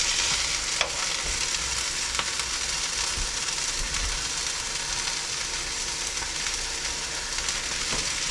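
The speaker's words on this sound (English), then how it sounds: "now I'm frying up some hamburger" Hamburger meat sizzles steadily in a hot pan on a stove, a continuous close crackling hiss with an occasional faint clink, no talking.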